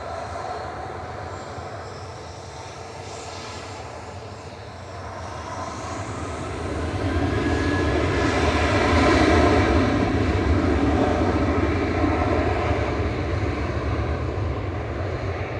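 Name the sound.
Ryanair jet arriving from Cork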